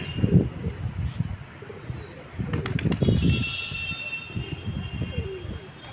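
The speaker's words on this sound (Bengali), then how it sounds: "এই যে দুটো এসছে কালো পায়রা দুটো দেখুন" Black pigeons coo in low, soft, repeated bursts close by, with a steady outdoor hum and a brief flutter in the middle.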